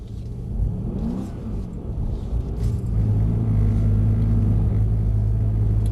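A Mercedes C63s AMG V8 in Sports Plus mode pulls hard under throttle, a deep engine rumble swelling into a sustained loud, rising drone heard from inside the car, with no talk.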